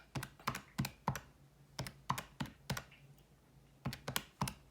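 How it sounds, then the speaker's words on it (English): Typing on a computer keyboard in short bursts of a few keystrokes each, crisp and close, separated by brief pauses, in an otherwise quiet room with a faint steady hum beneath. "Let me start typing that again."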